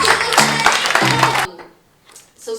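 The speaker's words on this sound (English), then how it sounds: "give a huge round of applause" An audience at a San Diego mastermind event bursts into loud clapping and cheering for Maria, then cuts off abruptly into near silence before faint sounds return.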